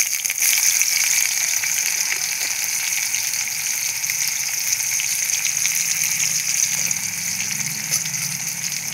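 Onion frying in hot oil with cumin for a chicken curry, a steady broadband sizzle that holds loud and even throughout, close up with no voices.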